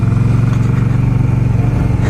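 A 2020 Indian Scout motorcycle engine runs steadily and loud up close, a continuous throbbing idle with a low rumbling pulse and no voices over it.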